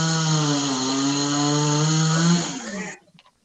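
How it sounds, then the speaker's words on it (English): A chainsaw recording plays through a smart speaker, a steady, loud, buzzing engine drone that holds for about three seconds and then cuts off abruptly, leaving near silence. "Alexa, play chainsaw sounds."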